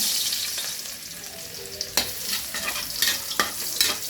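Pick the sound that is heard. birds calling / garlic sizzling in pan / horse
garlic sizzling in pan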